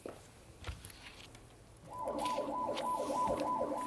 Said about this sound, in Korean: 구급차가 사이렌을 울리면서 지금 달려가고 있습니다